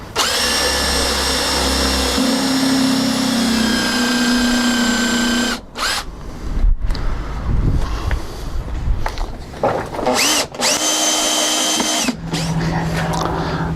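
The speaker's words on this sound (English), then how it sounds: "First we'll pre-drill a hole into the bottom." Power drill pre-drilling a screw hole into the bottom of a weather station part: loud, close whirring bursts, a long steady run and then shorter spurts separated by brief pauses.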